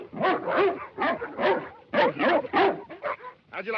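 A dog from a 1935 film barks and whimpers close by, giving a rapid series of short yips, whines and bow-wows with brief pauses between bursts.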